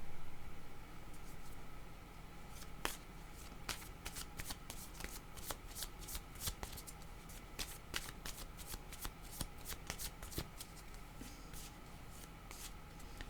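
Tarot cards shuffled by hand in a quiet room, a steady soft riffling with crisp repeated card snaps at an irregular rhythm, close and faint.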